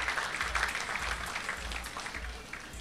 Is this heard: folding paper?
no